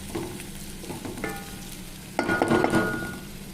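Ivy gourd (dondakaya) fry cooks in a pan with sesame seeds, peanuts and coconut, a steady close sizzle broken by stirring scrapes and a louder burst of frying toward the end, with no talk.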